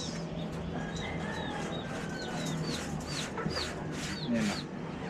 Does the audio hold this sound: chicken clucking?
yes